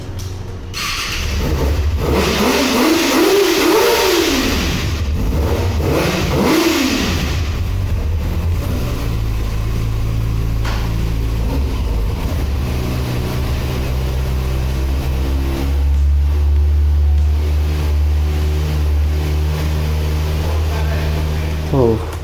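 A Kawasaki Ninja ZX-6R supersport motorcycle idles loudly and steadily, rising in two quick revs early on before settling back to a constant engine drone, close by and without talk.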